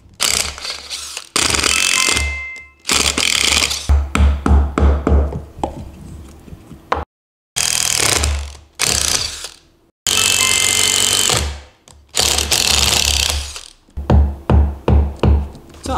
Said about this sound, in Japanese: じゃあ穴を開けます